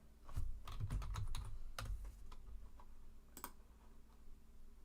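Typing a short note on a computer keyboard, with a quick burst of close, soft key clicks at the start and scattered single taps afterward over a low room hum.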